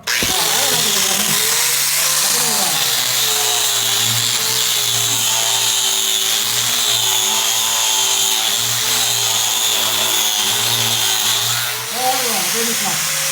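An electric grinder runs loud and steady for the whole stretch, giving a constant high whine with small dips in pitch.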